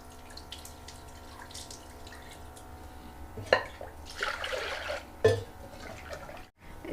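Soft water sloshing and trickling with a couple of sharper splashes and clinks as lentils are rinsed in a bowl; fairly quiet, no talking.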